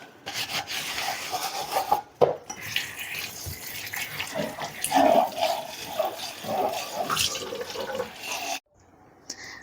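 Raw prawns being cleaned and cut in a kitchen, with wet rubbing, scraping and rustling handling sounds, close and uneven, ending in near quiet.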